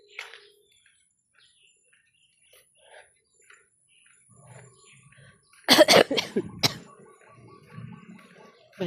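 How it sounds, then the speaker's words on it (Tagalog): A person coughs in a brief cluster of harsh bursts near the middle, close by, with faint bird chirps and quiet background sounds around it. "Ubong-ubo talaga."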